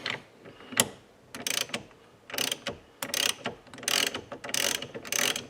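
A torque wrench ratchets on a wheel bolt in bursts of fast metallic clicking, repeated close and loud pulls separated by short pauses, with no talking.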